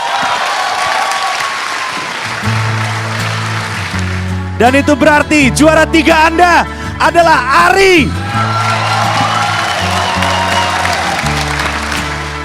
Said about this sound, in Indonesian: Tepuk tangan sekali lagi untuk Ari